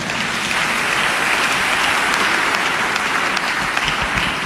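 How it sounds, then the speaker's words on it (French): A church congregation breaks into steady, dense applause that fills the space for the whole span, with no clear voices above it. "Acclamons la parole."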